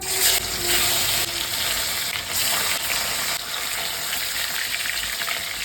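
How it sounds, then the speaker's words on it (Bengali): Fish pieces lightly frying in hot mustard oil, a continuous close hiss and crackle of sizzling with a few brief louder bursts. "এবার আমি মাছগুলোকে হালকা করে ভেজে নেব।"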